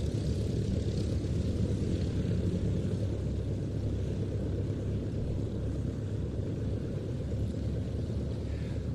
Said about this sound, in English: Jeff Milsom, leader of the team, former RAF Phantom pilot in his very smart green aircraft.